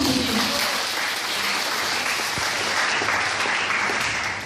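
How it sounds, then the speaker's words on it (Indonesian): An audience at a talk show about living with bipolar disorder claps in steady, dense applause that holds at an even level throughout, with no one speaking over it. "Tepuk tangan dulu untuk Kisha."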